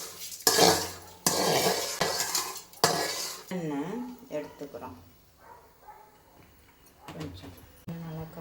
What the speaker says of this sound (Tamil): இதை வந்து நம்ம அடுத்த பாத்திரத்துக்கு மாற்றிக்கலாம்